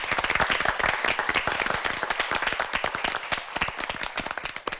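Audience applause for two high school debate teams at a national assembly speaker's cup debate tournament, a dense burst of many hands clapping steadily and loudly throughout, without speech.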